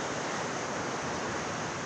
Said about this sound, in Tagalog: napakalakas ng alon mga pre